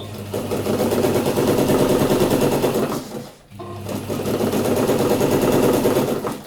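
A sewing machine stitches a fabric stuff sack in loud, rapid mechanical bursts, pausing briefly midway before the rattling stitching resumes at a steady pace.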